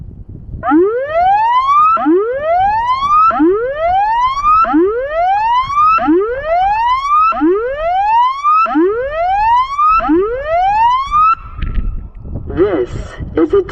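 Christchurch tsunami warning siren under test, sounding loud and close as a series of about eight rising wails in steady rhythm, ending abruptly before a short burst of background noise.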